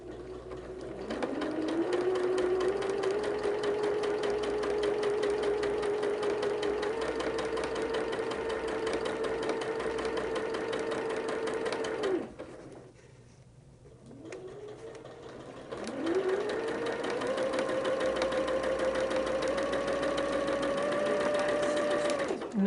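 A sewing machine stitches through thick fabric layers of a flag quilt block, whirring steadily up close for roughly eleven seconds, pausing briefly, then resuming for several more seconds.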